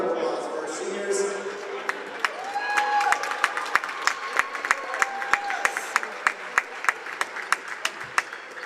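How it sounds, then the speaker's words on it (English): Basketball crowd applause for the seniors swells and fades over the first few seconds, followed by a run of sharp, evenly spaced ball bounces and sneaker squeaks on the hardwood court. "Please join us in giving one more round of applause for our seniors."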